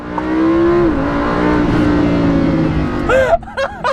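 A Lamborghini Huracan held at about 4,000 rpm, then launching hard: a loud, close engine roar that dips as the car drops off the brake and keeps pulling, followed by a couple of quick rising shift-like yelps near the end.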